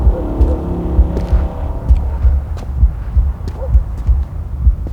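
A heartbeat sound effect in a night-shoot film edit, with deep, rhythmic thumps pulsing steadily under a low hum and soft music, loud and close, with no talking.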